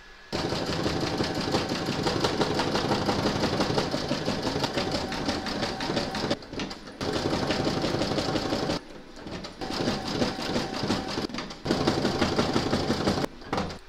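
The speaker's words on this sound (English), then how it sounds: "We're now going to stitch round number 8, and that's going to do the satin stitching and the top stitching around the border and around the eyelets." Embroidery sewing machine satin stitching and top stitching around the border and eyelets of a bunting piece, a rapid steady mechanical rattle in several bursts separated by brief pauses, with no talk.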